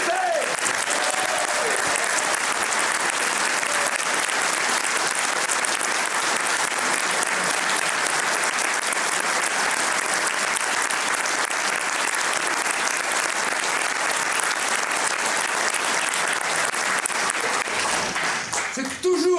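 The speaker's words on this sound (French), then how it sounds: "un tonnerre d'applaudissements pour Maurice de Sutter" Loud, sustained applause from a large audience, thunderous and continuous, with a few voices mixed in, tapering slightly at the very end.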